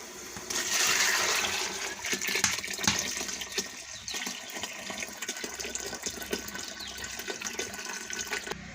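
Water drained from soaked dal is poured over onions for a Kashmiri-style red lobia dish, making a loud, steady splashing pour that fills most of the stretch, with no talking.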